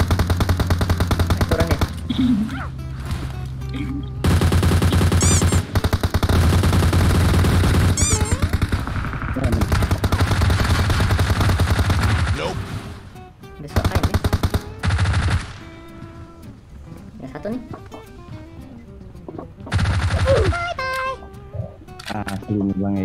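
Rapid machine-gun bursts and gunshots from PUBG Mobile crackle in dense volleys, stopping and starting through the round while players talk excitedly over the shooting.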